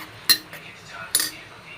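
A spoon stirs cooking rice with lemon juice in a pot so the grains don't stick. Two sharp metallic clinks against the pot rim are separated by a softer scrape, over quiet background.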